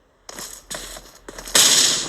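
Several sharp, booming bursts in a video game, three quicker blasts followed by a bigger, louder explosion that lingers and fades.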